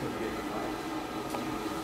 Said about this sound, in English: So you can hear the fan right now